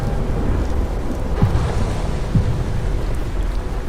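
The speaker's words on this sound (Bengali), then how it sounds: "বাইরে অঝরে বৃষ্টি পড়ছে।" Heavy rain pours outside an old black-and-yellow taxi at night, a loud, dense low rumble and wash of rain with a couple of brief deeper thuds, with no voices.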